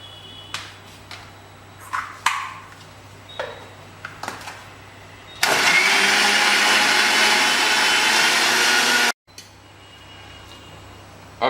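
Light kitchen clatter gives way to a loud, steady whir of a blender mixing coriander and green chili paste with yogurt for about four seconds, then it cuts off abruptly.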